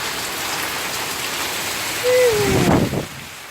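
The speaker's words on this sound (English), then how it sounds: "Huge rain." Heavy rain pelts down in a Queensland storm with a steady, close hiss, swelling louder near the end with a brief gliding tone and a thicker splashing rush.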